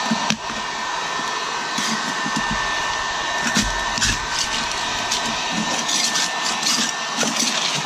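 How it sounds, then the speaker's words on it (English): A heat gun softens old linoleum glue on a concrete floor, producing a loud, steady blowing whir that runs continuously, with a few light clicks and knocks underneath. "Take a heat gun and heat up that glue underneath."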